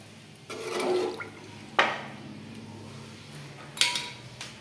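Water splashes and pours in short bursts into a metal pot of chicken for biryani, with a couple of sharp clanks against the pot, close and moderately loud.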